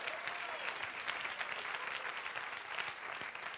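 A Spanish-speaking church congregation claps in a dense, continuous round of applause, with sharper individual hand claps standing out in the mix.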